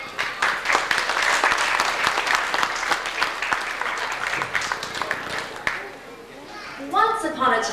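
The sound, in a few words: audience applause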